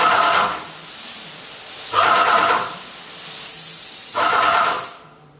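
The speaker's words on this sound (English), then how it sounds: "we're now spraying pretty much water" Graco ProStep airless paint sprayer spraying mostly water during cleaning, three bursts of sharp, loud hissing spray separated by short pauses, close by.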